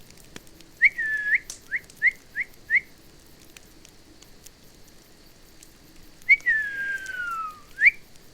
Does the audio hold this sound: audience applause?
no